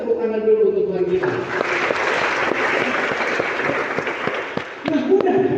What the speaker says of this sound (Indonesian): Boleh nggak tepuk tangan dulu untuk Tuhan kita?